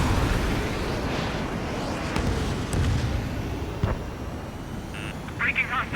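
A missile launches from a fighter jet in Ace Combat 7, a rushing burst over roaring engine noise with a few sharp blips and a tone near the end.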